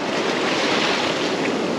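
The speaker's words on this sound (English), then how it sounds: "you want to wait until the waves come forward and then go out" Ocean waves surging onto a shoreline where Dungeness crab are being fished, producing a steady, close, continuous roar of surf mixed with wind buffeting the microphone, with no voices.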